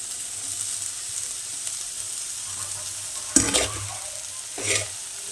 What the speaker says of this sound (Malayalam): പൊടികൾ ചൂടായിട്ടുണ്ട് ഇനി അരിഞ്ഞു വെച്ച നാരങ്ങ ചേർത്ത് മിക്സ് ചെയ്യുന്നു